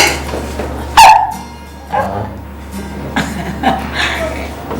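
A dog gives one loud, close bark, followed by a few softer, scattered sounds, while people talk intermittently in the background.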